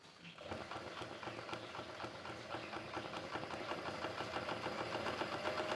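An embroidery sewing machine stitches steadily, a fast, even mechanical whirring and clatter that runs close and continuous from start to end.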